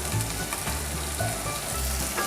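Kerala-style prawns roast in coconut oil in a pan, giving a steady, close sizzle and fry with faint stirring scrapes throughout and no talking.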